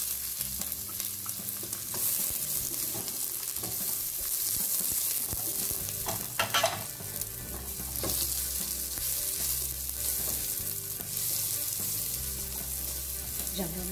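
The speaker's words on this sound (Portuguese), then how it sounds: "Já vamos dando uma refogada no alho e na cebola." Onion and garlic sauté in hot olive oil, a steady close sizzle and crackle running throughout, with occasional scrapes and clinks of a utensil stirring the pan.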